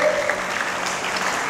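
Young audience at a guidance camp clapping, a steady wash of applause from a crowd, moderately loud and even across the moment, with no voice over it.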